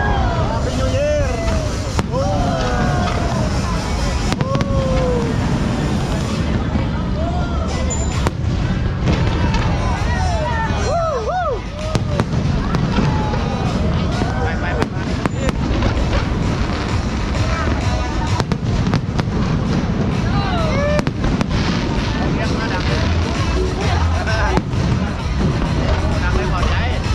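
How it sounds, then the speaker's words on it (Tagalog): New Year fireworks bursting over a steady, loud crowd din, with dense repeated pops and booms running throughout and people talking and shouting underneath. "Dapat mag-New Year dito, may fireworks."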